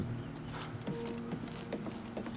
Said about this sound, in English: there's still some random horse just sitting on the bridge here